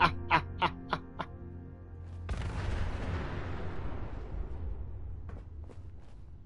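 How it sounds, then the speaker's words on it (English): In Fallout 4, a few sharp clicks lead into a sudden loud boom that rolls out into a long fading rumble, with faint pops near the end. "Just look at the explosions."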